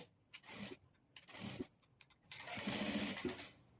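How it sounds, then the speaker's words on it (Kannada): Sewing machine running in three short bursts while stitching piping onto the neck of a blouse, the last burst longer and louder, each separated by brief pauses with light handling noise. "ನೋಡಿ ಈ ಥರ ನಾವು ಪೈಪಿಂಗನ್ನು ಸ್ಟಿಚ್ ಮಾಡ್ಕೊಳ್ಬೇಕು."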